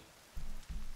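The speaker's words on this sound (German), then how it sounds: "Es regnet durch." Rain dripping through a leaky roof inside a shelter in The Forest video game, heard as two short bursts of dull low patter separated by a brief pause, fairly quiet.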